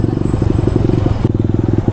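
A modified Hero Impulse supermoto motorcycle engine thumps loudly and close, a rapid steady putter with a brief dip partway through.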